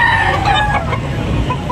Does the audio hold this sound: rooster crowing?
yes